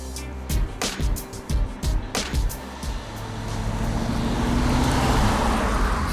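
A 1966 Chevy Nova's engine runs up through a gear change, with a few sharp bursts of exhaust noise at first and then a steady, rising roar that grows louder toward the end. No one speaks.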